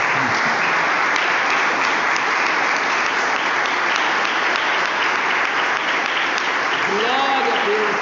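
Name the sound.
congregation applauding in church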